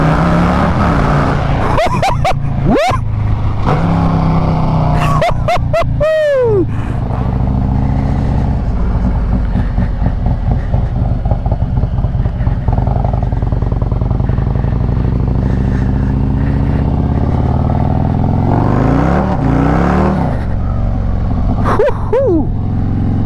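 A Road King Special motorcycle ridden at night on wet roads, its engine rumbling loudly and steadily up close, with repeated throttle revs and shifts swelling over constant wind noise.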